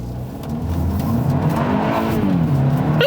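A 2021 Hyundai Elantra N-line drives along with a steady engine drone that rises in pitch as it accelerates, over constant road and tyre noise, heard from inside the car with no talking.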